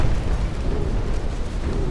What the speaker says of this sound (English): 5 torpedoes have hit the ship. 6 torpedoes even.